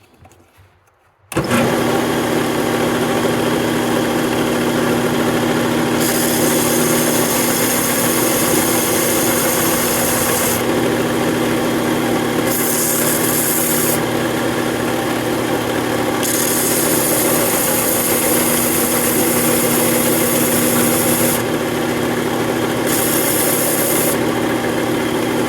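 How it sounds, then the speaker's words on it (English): Steady, loud motorized whine of a power sander running continuously after a brief quiet start, with a constant hum and shifting high-pitched hiss. "Let's go ahead and get this sanding done first though."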